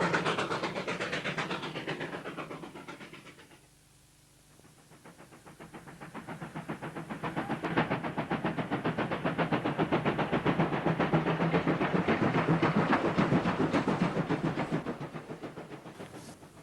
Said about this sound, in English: These 153-ton locomotives had extensive use on every branch line of the SAR